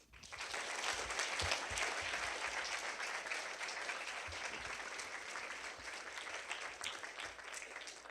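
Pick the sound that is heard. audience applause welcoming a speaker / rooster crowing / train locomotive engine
audience applause welcoming a speaker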